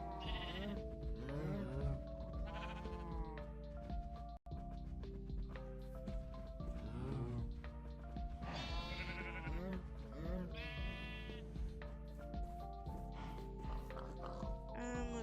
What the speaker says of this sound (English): let's go ahead and breed some more sheep